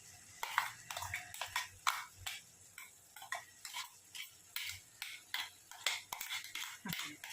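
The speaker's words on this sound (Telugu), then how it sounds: "ఇప్పుడు మనం ఈ చికెన్లోకి పేస్ట్ అనేది వేస్తున్నాము." Spice paste stirred into raw chicken for green chilli chicken, giving soft, irregular wet clicks and scrapes of a spoon against the bowl, close and fairly quiet, with no talking.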